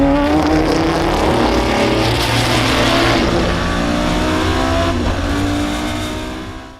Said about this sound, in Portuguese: Um V10 compacto, leve e montado para as corridas de resistência